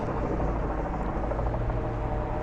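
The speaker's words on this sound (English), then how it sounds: "with the helicopter right above me." Loud, constant helicopter rotor noise from directly above a private driveway in Bath Beach, Brooklyn, a dense whooshing thrum with no voices.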